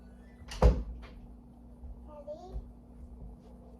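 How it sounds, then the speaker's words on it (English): A young child playing with a door at home: a sharp thud of the door near the start, then softer knocks and creaks, with a voice babbling faintly over a low background hum. "She's just playing with the door."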